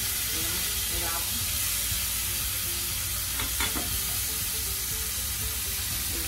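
Garlic fries in melted butter over low heat, a continuous close sizzle and hiss broken by a few short scrapes of stirring.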